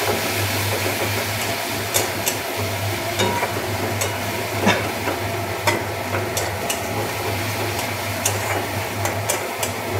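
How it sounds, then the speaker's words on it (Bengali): Spice paste for a prawn curry sizzles and fries in a pan with constant crackle, while a spoon stirs and scrapes against the metal in frequent sharp clicks, over a low steady hum. "এবার মশলাটা ভালো করে ভাজতে হবে।"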